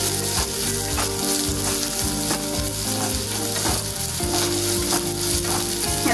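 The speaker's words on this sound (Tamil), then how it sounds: "இஞ்சி பூண்டு பேஸ்ட் போட்டதக்கு அப்புறம் கொஞ்ச நேரம் வதக்குங்க" Onion sautéing with ginger garlic paste in a pan while cooking macaroni, a steady close sizzle and frying crackle with scraping stirs running through, no voices.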